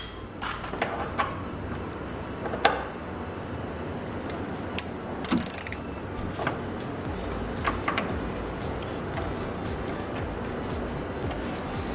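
A socket ratchet works the rear coilover nut on a BMW E46 3-Series, giving scattered sharp metallic clicks and short ratcheting bursts over a low mechanical background.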